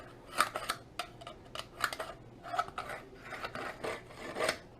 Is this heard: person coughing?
no